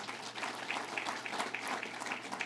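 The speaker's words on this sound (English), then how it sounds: "let's give him a round of applause" A crowd at a New York political campaign event gives a round of applause for a local official, brisk clapping with some audible individual claps, steady and moderately loud throughout.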